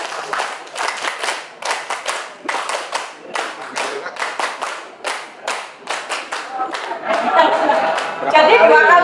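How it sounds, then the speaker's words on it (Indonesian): An audience claps out the tepuk kadarkum pattern, rhythmic groups of sharp hand claps separated by short pauses, ending in looser applause and chatter. "Kita latihan bareng tepuk kadarkum supaya nggak ngantuk ya Bapak Ibu ya."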